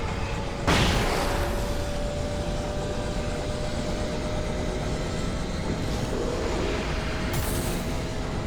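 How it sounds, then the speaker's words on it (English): A flashbang detonates in the video game Alan Wake with a sudden loud burst, followed by a sustained dense roar that holds steady for several seconds. "Flashbang."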